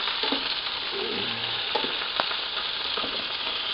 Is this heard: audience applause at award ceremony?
no